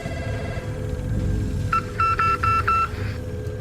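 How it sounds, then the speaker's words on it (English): A quick Morse code message played from a phone in Call of Duty: Warzone: a short run of about five evenly spaced electronic beeps over a steady low background hum, with no voices. "Interact with the phone and you should hear a quick Morse code message"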